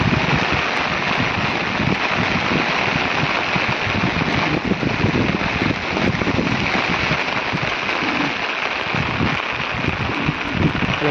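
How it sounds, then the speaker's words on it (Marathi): Steady heavy rain pours outdoors in rural Konkan, a dense continuous hiss with low rumbling gusts of wind, loud and unbroken, no voices present. "तर आता बघा मस्त पाऊस येलो हा"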